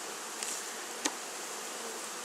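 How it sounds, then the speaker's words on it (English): A honeybee swarm being shifted into a top bar hive gives a steady, even buzzing drone that stays fairly soft and constant throughout, with a brief sharp tap near the middle. "So let's have some bees in there."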